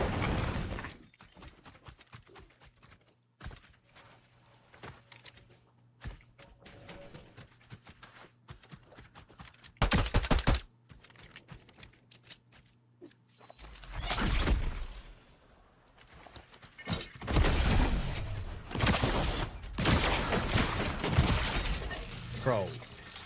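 Gunfire in the Fortnite video game, with loud sharp bursts at about ten seconds and dense, heavy firing from around fourteen seconds onward, under a busy game soundscape.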